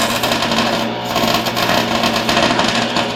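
Tack welding on a Willys lowrider's C-notch, a steady buzzing crackle from the welder, loud and close, lasting a few seconds with slight flickers in intensity.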